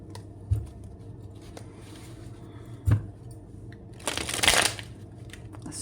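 A tarot card deck being shuffled, with scattered card taps and a louder riffling burst near the end, at moderate level with no talking.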